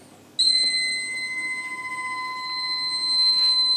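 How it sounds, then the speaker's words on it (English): A steady, sustained electronic tone from a stuck key on an Ensoniq ESQ-1 synthesizer, with several bright overtones, switches on abruptly and holds unbroken, a single droning note with a faint wavering underneath. "That sound is a stuck key."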